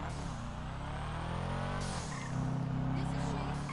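Turbocharged car engine in GTA 5, a steady close rumbling drone that rises in pitch as it revs, with someone talking over it.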